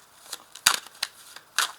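A deck of tarot cards being cut in two on a table, a few quick dry snaps and soft shuffling clicks, close and fairly quiet, with no speech.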